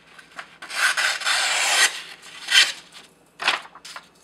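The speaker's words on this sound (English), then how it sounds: "Definitely sharp enough to push cut printer paper." A sharpened knife push-cuts printer paper in several close, crisp rasping strokes: one long slice, then shorter separate cuts, each alone against a quiet background.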